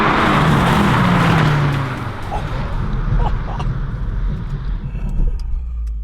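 A VW Polo GTI and a Toyota Yaris GRMN drag race, engines roaring loudly up close with a rising whine that fades into steady road and wind rumble, with faint background voices.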